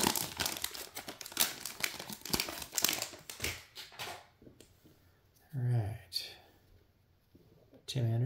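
Foil packs of 2023 Series 1 baseball cards bought at retail are torn open with loud crinkling and ripping, mixed in with close talking, followed by a couple of brief louder rustles near the end.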